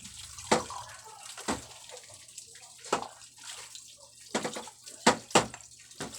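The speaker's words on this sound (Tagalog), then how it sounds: "Tapos, panlawan na natin." Dishes being rinsed under running tap water: a faint steady trickle broken by sharp clatters and splashes as plates and utensils are handled, close and quiet, with no talk.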